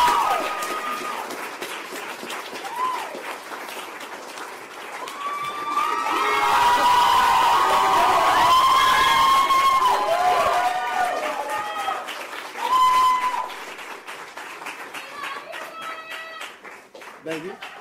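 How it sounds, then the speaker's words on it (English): A crowd at a press conference following Ryan Ferguson's release claps and cheers, the applause swelling to a loud, dense peak midway before thinning out, with voices and shouts mixed in. "People started clapping again."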